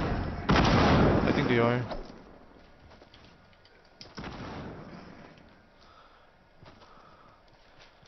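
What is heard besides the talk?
gunfire in the video game Fortnite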